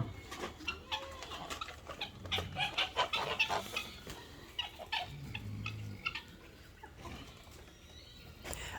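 Chickens and roosters clucking and squawking in a busy farmyard chorus, overlapping calls near and far, fairly faint overall with no talking.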